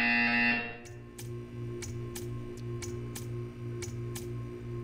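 A buzzer in the video game Portal 2 sounds in a steady series of short, evenly spaced electronic pulses over a low mechanical hum, with no voice.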